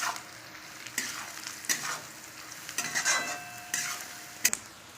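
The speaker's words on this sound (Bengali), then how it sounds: "যে মশলাটা আমি ভেজে বেটে রেখেছিলাম সেটা দিলাম। এটাকে একটু কষিয়ে নেব।" A fried, ground spice paste is stirred and sautéed in a pan for a paneer curry, giving a soft, steady sizzle broken by several scraping strokes of a spoon against the pan, with no talking.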